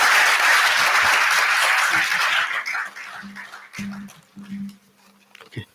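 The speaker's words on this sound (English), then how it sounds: "Please give them a big round of applause." Audience applause at an international conference fills the room loudly for about two and a half seconds, then thins into scattered claps and fades as a few voices speak.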